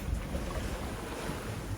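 Strong wind buffets a sailboat at sea on a solo Pacific crossing: a steady, close, loud rush of wind noise over the rigging and water, unbroken for the whole moment.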